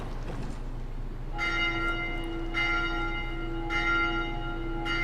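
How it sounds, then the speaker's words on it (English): A ship's bell rings out as a boat departs in Dark Souls 2, struck four times at roughly one-second-plus intervals, each clear metallic toll ringing with bright overtones over a low ambient rumble, with no talking. "And it's just a bell and the boat rides off"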